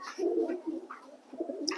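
A pigeon coos close by, a soft, low, throaty murmur lasting about two seconds with a short higher note at the end.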